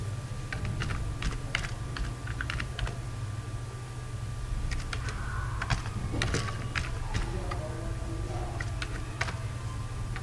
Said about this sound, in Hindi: तो इधर आगे पहले हम टाइप कर लेते हैं